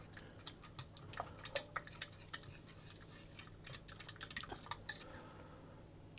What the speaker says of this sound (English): whisk those to get them nicely broken up and combined so that the whole mixture is combined